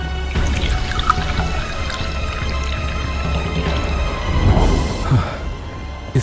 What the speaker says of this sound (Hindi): उसमें बीज डाला और पानी छिड़क दिया